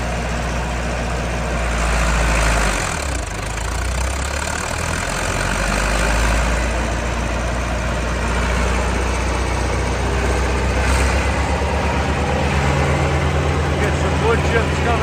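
A 1993 Vermeer 1250BC brush chipper's engine runs steadily and loudly, its low rumble dipping briefly as the clutch engages, then settling into a constant drone with a voice talking over it.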